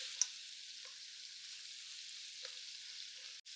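Lamb chops sear in a pan with a steady, quiet sizzle and a few faint pops, no voices over it.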